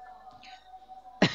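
A teacher coughs once, sharply and fairly close, in a classroom, following a stretch of faint talk and quiet room tone.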